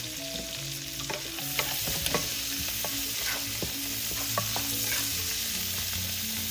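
Onions frying in a pan for a banana blossom vinegar braise, a steady close sizzle with scattered crackles and light pops and occasional utensil scrapes, without any voices.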